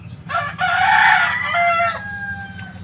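A pet chicken being bathed lets out a loud, close crow-like call of about two seconds with a few trailing clucks over low background rumble.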